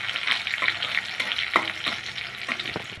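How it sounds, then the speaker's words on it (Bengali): Chopped garlic frying in oil with two dried red chillies and a pinch of black cumin, heard as a close, continuous bright sizzle with occasional stirring scrapes in the pan. "রসুনটা আমি একটু লাল লাল করে ভেজে নিব।"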